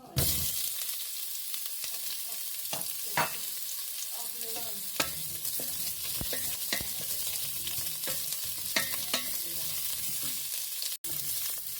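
Onion frying in oil in a pan for a homemade beef casserole, a steady close sizzle with scattered crackles and a few stirring clicks throughout, no one speaking.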